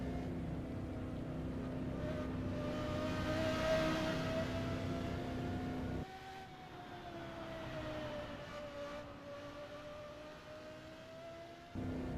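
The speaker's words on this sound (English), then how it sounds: "Jake powered by a very unique Lexus LFA engine" A Lexus LFA engine powering a ROX Mods race car on a Plymouth oval, heard as a steady, high-revving drone that holds loud and continuous, shifts tone as it rounds the track, and dips briefly partway through.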